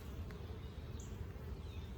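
Honey bees buzz around an open hive during an inspection of brood and pollen frames, a soft, continuous low drone close by.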